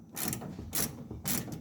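A ratchet wrench with a long 15 mm socket works a suspension bolt on a Ford Ranger 3.0, giving three bursts of quick metallic clicking with short pauses between.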